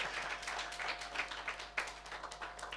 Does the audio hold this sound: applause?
yes